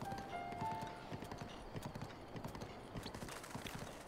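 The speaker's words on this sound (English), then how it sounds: "A horse climbing upstairs." Horse hooves clatter in a steady clip-clop rhythm while climbing stairs in Zelda: Breath of the Wild, loud and close, with a faint whinny and light background game sounds throughout.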